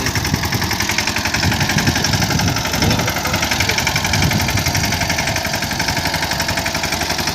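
A tractor engine runs steadily at close range while sowing in a rain-muddied field, a continuous low chugging rumble with a slight rhythmic knock, holding an even loudness throughout.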